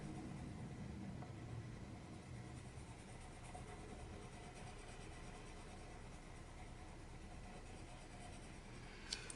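Steady, soft scratching of a Crayola colored pencil burnished back and forth on paper, continuous and faint against a low background hum.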